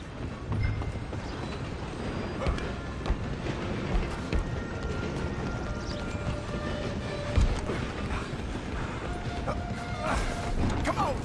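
Train in Red Dead Redemption 2 video game rumbling and clattering steadily along the rails, with rhythmic clip-clop of horses alongside. Bumps and shouts break in over the continuous rolling noise.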